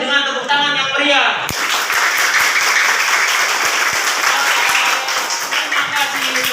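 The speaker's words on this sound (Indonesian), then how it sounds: "kita tutup pembelajaran ini dengan tepuk tangan yang meriah" Loud, sustained applause from a classroom group closing a lesson, dense steady clapping that fills the room after a brief opening of voices and continues without a break.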